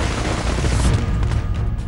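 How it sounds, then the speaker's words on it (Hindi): Firecrackers burst in Delhi in a dense, continuous barrage of loud cracks and booms that blend into a rough, crackling roar. "सुप्रीम कोर्ट ने सिर्फ पटाखों की बिक्री पर रोक लगाई है, पटाखे फोड़ने पर नहीं।"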